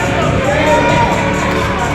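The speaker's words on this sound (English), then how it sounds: "Big crowd on hand, always rowdy, always into the action" A rowdy ringside crowd at a wrestling event in Buckhead, Georgia roars and cheers loudly in a dense, continuous wash of shouting voices.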